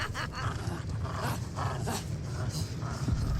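A hound in the Dead by Daylight video game growls in a low, continuous, rumbling snarl with pulsing swells, close and fairly loud, with a voice talking over it.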